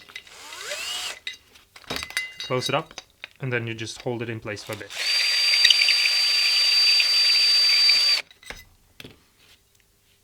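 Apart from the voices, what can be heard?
power drill with grinding stone smoothing a pedal enclosure hole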